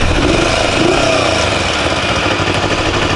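A motorcycle engine idling steadily after being restarted on reserve fuel, a loud and close continuous rumble with no talk over it.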